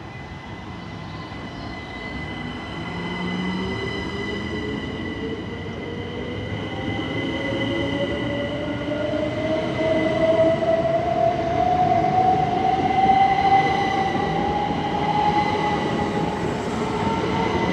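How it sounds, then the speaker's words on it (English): A Southeastern Class 375 electric train departs Tonbridge station, its motors whining and rising steadily in pitch over a constant rumble of wheels on rails, loud and close throughout. "As the Hastings service is now departing"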